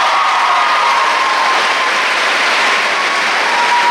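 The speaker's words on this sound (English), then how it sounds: "Go ahead, clap your hands." High school students in an auditorium clap their hands together, a loud, dense, even wash of applause from a large crowd lasting the whole stretch, with a faint steady tone beneath it.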